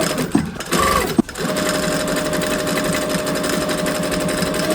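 A sewing machine runs steadily along a corset seam at 3/8 inch, a continuous close mechanical whir after a few brief start-stop bursts, with no talking.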